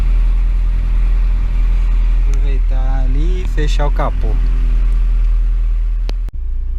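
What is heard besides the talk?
car engine running and warming up during a test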